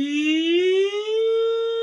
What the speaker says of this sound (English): I know it's ambulance sound effects